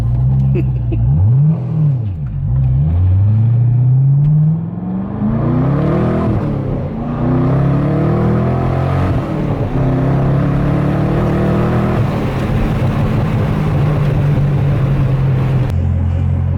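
A Chevrolet Corvette C6 engine, freshly fitted with a new clutch, revs loudly and up close in several rising and falling pulls before settling into a steady drone, with occasional voice in the background.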